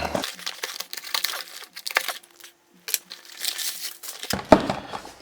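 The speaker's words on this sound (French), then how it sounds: "Je vous propose de faire un petit déballage avec vous et regardons vite fait ce qu'il y a dans ce paquet." A parcel of Casio watches, including a G-Shock, being unwrapped: close, irregular crinkling and tearing of packaging in bursts, with a brief quiet pause midway and a sharper rustle near the end.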